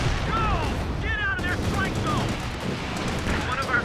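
Battle gunfire crackles in a Company of Heroes 4v4 match on Hill 400, continuous shots and bursts under game effects and voices, loud and busy throughout.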